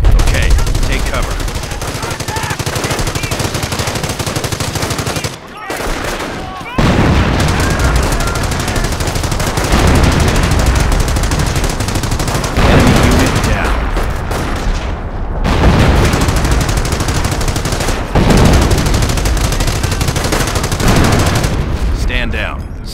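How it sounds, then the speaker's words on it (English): Intense gunfire and artillery strikes from the Company of Heroes World War II strategy game, with rapid machine-gun bursts, loud booms and explosions continuing almost without pause, broken by a few brief quiet gaps. "Use the artillery strike ability to defeat the German attack."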